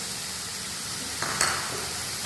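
Coconut chutney mixture with coriander leaves being stirred in a hot pan, a soft steady sizzle with a brief scraping stir near the middle, close and alone.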